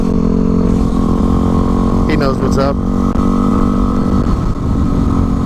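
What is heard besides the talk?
motorcycle engine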